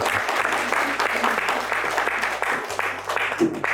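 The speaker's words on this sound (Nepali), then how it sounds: "ताली बजाइदेऊ सबले।" Guests clap in dense, sustained applause at a wedding ring ceremony, steady and fairly loud throughout, with a low hum beneath and murmuring voices mixed in.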